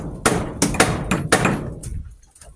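Hammer blows drive nails while a house is built for an elderly couple, five or six sharp strikes in uneven rhythm, close and loud with ringing decay.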